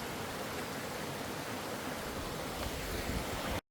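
Steady broadband rush of a mountain valley stream flowing on Jirisan, near the Seseok bridge on an autumn hiking trail, continuous and loud without pause before cutting off abruptly.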